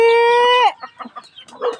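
A loud, sustained chicken call breaks off into a run of short, close clucks.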